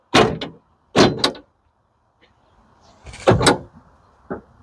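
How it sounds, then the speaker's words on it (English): Power door locks on a 1985 Chevrolet Caprice estate wagon actuating, heard as two sharp clunks close together, a pause, then another thunk and a fainter final click, with no talking. "Hit your door lock button over there, see if the doors will lock."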